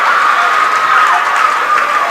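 A home crowd in a high school wrestling gym cheers and applauds loudly after a pin at a Mineral Point regional, a dense, sustained roar with voices mixed in.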